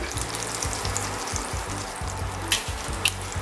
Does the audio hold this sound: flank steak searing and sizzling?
yes